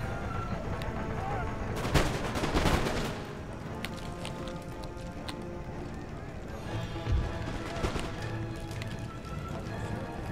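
Musket volleys during a city assault on Hyderabad in Empire Total War, a dense crackle of shots clustered around a loud burst early on, then scattered pops and another volley over a constant battle din.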